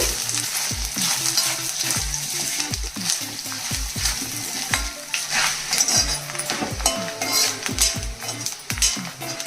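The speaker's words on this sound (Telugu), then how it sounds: "ఇలా గోల్డ్ కలర్ వచ్చే వరకు వేయించాలండి కొబ్బరి ముక్కలు." Coconut pieces sizzle steadily as they fry in a pan, while a utensil scrapes and clinks against the metal in a regular stirring rhythm throughout.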